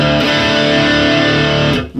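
A distorted electric guitar plays a chunky two-bar power-chord riff slowly, loud and sustained, with the chords ringing together before cutting off near the end.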